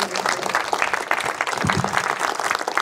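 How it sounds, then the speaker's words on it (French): An audience applauds at a public discussion session. The clapping is dense and steady and fills the whole stretch without a break. "Je vois que vous applaudissez."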